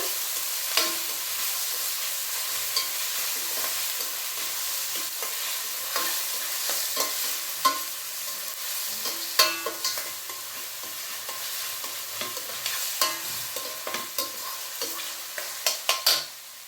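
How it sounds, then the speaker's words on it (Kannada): Onions fry in hot oil with a steady sizzling hiss while a spoon scrapes and stirs them in the pan, tapping and clinking at irregular intervals, close and with no talk. "ಚೆನ್ನಾಗಿ ಎಣ್ಣೆನಲ್ಲಿ ಫ್ರೈ ಮಾಡೋಣ ಈರುಳ್ಳಿನ"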